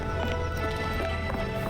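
A horse in the Sherlock Holmes The Awakened video game near a harbor area, with clip-clop hoof sounds under a dense, steady game soundscape of ambient background noise.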